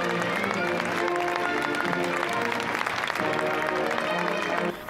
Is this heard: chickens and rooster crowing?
no